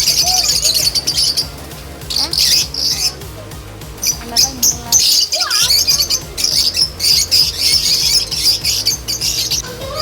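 Pet birds on a farm squawk and chirp almost continuously, with a dense mix of shrill calls near and far that pauses briefly mid-way, under a low rumble of background noise.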